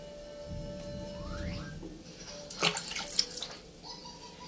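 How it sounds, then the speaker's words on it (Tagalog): A hair-removal item is rinsed under a running tap, making a steady, fairly quiet stream of water near the sink, with a few brief splashes and clatters as it is handled. "Try natin banlawan."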